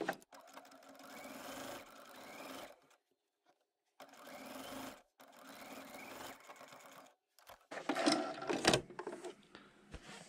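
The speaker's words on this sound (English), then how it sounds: "we'll go ahead and sew this side down" Sewing machine stitching the side of a netted Easter bunny bag, running in three steady close-up bursts with short pauses between them, followed by louder handling and clatter.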